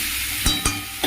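Green chilies and chopped tomato fry in a pan with a steady sizzle, broken by three sharp scrapes of stirring close by.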